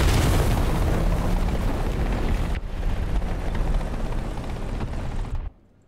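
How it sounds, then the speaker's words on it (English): Loud, roaring blast and dense rumble as a helicopter in a video game is hit and catches fire, the noise sustained for several seconds before cutting off abruptly. "He set my heli on fire and killed both my pilots."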